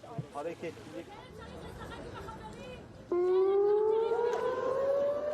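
Civil defense air raid siren warning of a rocket barrage from Gaza, rising loud and steady in Tel Aviv after the murmur of a crowd and speech at a hostage relatives' press conference.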